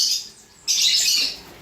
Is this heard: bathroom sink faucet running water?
no